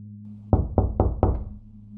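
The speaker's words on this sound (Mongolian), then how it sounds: "хаалгыг нэгэн жигд хэмнэлээр яг 4 удаа тогшхон тэр" Four evenly spaced knocks on a door, sharp and close, in a quick steady rhythm against a low background hum.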